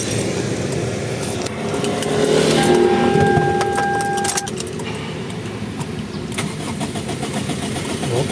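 A Toyota Corolla with a 4A-FE engine cranks and catches. The start is loud and close, settles into a steady running drone, and a brief mechanical whine comes in the middle.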